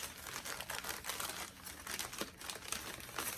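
Packaging crinkles and rustles continuously up close while a custom-made Pinkie Pie item is unboxed, with rapid crackly bursts and small taps repeating throughout and no voices.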